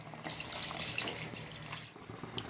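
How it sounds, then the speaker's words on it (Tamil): Water pours into a cooker holding cooked chicken for macaroni, a short splashing, gurgling stream that stops abruptly near the end, heard close and alone. "இப்போ வந்து தேவையான அளவு தண்ணி சேர்த்துக்கலாம்"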